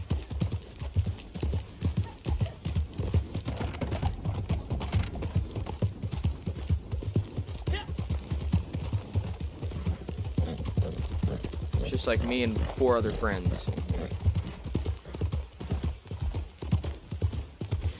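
A horse in the video game Red Dead Online gallops with steady, rapid clip-clop hoofbeats throughout, and a brief whinny partway through, while a person talks over it.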